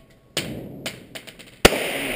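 Sharp bangs ring out against quiet: one crack, a few softer pops, then another loud report with a lingering echo, like shots at a range.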